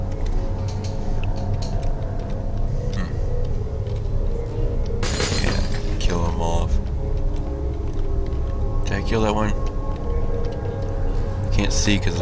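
Glass shatters under gunfire in the video game Portal, with sharp broadband crashes bursting out around the midpoint and again near the end over a steady hum of game ambience.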